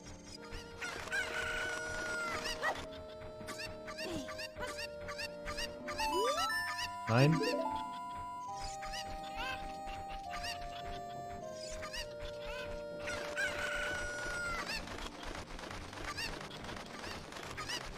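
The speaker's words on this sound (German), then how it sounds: "Ausgerechnet das Huhn ist zurück." Chicken clucks and crowing from Zelda: Ocarina of Time sound over steady game music, with a brief voice and a bird squawk near the middle.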